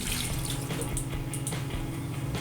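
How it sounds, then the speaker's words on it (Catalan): Water poured from close by into an oven dish holding a lamb shoulder with garlic cloves, thyme and bay leaf, a steady low trickle and splash running throughout with no talk. "jo quasi que hi tiraria una miqueta més d'aigua"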